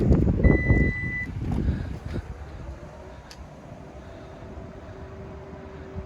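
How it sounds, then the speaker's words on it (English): Rear parking sensor on a Lexus RX 450h hybrid V6 SUV giving a steady high electronic beep tone, close and clear, over low rumbling vehicle noise that settles into a quieter hum. "Rear park distance control with rear camera."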